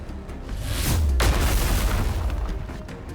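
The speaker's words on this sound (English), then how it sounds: "there's an enormous explosion." An enormous explosion in the video game Nikke, a deep booming blast with a heavy low-end roar and crackling debris that rumbles on for several seconds; no talk.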